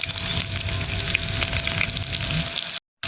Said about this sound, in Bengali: আমি একটু তেল দিয়ে নেবো ডিমটা ভাজার জন্য